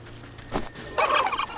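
Turkeys gobble in the video game Wytchwood: a short, warbling burst of gobbling rises after a brief dull thump, fairly close and clear, with no voices over it.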